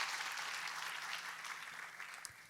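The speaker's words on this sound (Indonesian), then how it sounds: "Boleh tepuk tangannya yang paling meriah buat Yesus Tuhan kita." A church congregation applauds in a steady, dense wash of clapping that holds at moderate loudness for a few seconds.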